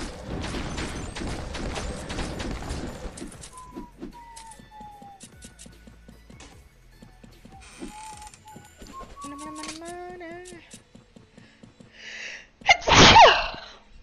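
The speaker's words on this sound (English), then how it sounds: "My sneeze sounded horribly." A single sharp sneeze bursts out near the end, loud and close, after a stretch of clattering mechanical noise and a few short electronic tones from the mobile game Dungeon Chronicles.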